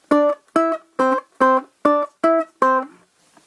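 A nursery rhyme sung as a vocal harmony in octaves, with voices on the same note an octave apart delivering seven short, evenly spaced sung syllables, clear and close, with no accompaniment.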